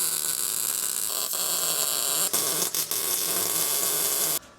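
Rear tubs on an NSU car are tack welded in place, producing a close, steady electric buzz with a few short breaks before it cuts off sharply near the end.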